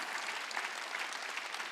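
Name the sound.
congregation clapping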